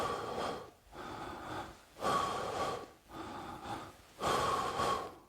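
Breathing exercise of slow, deliberate inhales and exhales through the mouth, repeated in a steady rhythm of about four breaths, close and airy with no talking.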